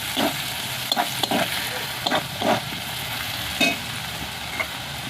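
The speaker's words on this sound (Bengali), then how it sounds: "সব একসঙ্গে ভালো করে মিক্স করে দেবো" A spoon scrapes and stirs chili and cumin powder into banana blossom curry in a frying pan, producing intermittent scraping strokes over a steady low sizzle.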